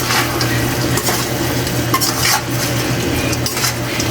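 Adobo chicken feet being stirred in a pan with dried fish, a steady loud sizzle under scraping utensil strokes against the metal, with no talking.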